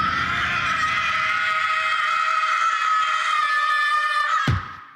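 A shrill, sustained scream from an anime horror scene, loud and unbroken for over four seconds before cutting off abruptly with a brief low thud.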